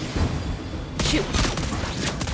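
A short burst of gunfire from Lesley in Mobile Legends rings out in quick succession after a quiet start, a few sharp shots over game background sound.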